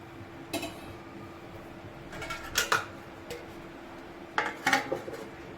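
A spoon scraping and clinking against a metal cooking pot while mushroom curry gravy is stirred, with a few sharp clatters spread across several seconds in a quiet kitchen.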